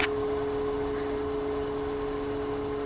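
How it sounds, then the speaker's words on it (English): A solar-powered gable fan runs in an attic, a steady, even whir with a constant hum, heard from a short distance, unchanging throughout and with no talk over it. "I'll point the camera towards the fan so you can hear it and see it from a distance"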